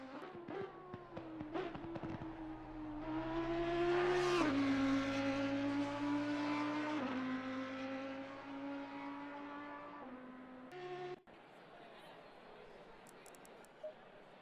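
Race cars including Lamborghinis, Porsches and Aston Martins lapping during a three-hour endurance race at Watkins Glen: droning engine tones climb and swell to a loud peak, then slowly ease off before an abrupt cut to hissing noise.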